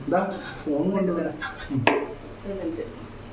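Appam is lifted onto a plate with a few light clinks of dishes and utensils, heard under steady talking.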